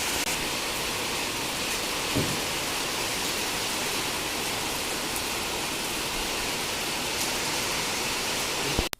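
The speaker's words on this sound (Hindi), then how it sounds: "सुबह की शुरुआत के साथ यहाँ पे बारिश भी शुरू हो गई है और बहुत अच्छी वाली बारिश हो रही है" Heavy rain pours steadily on a morning, a dense, even hiss of falling water filling the whole scene at constant strength, with a brief knock near the start and a sharp tap at the very end.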